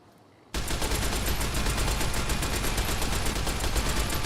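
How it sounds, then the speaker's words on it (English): Shoulder-mounted machine gun in Fallout: New Vegas starts abruptly after a brief quiet moment and then fires continuously in a fast, loud, close stream of rounds. "Gotta go back to the shoulder-mounted machine gun."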